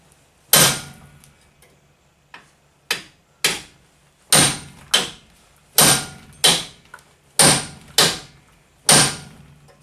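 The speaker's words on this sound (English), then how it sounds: "we're knocking the bearing out." A hammer strikes metal to knock out a wheel bearing on a 2005 GMC Sierra 1500 4x4, about a dozen loud, sharp blows at an irregular pace with short ringing decays and no talk.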